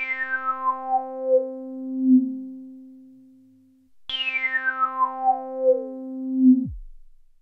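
A synthesizer tone with the filter frequency at zero, resonance turned up high and envelope modulation on full sweeps its resonant peak downward twice, each sweep a clear falling whistle over a steady low note, loud and alone.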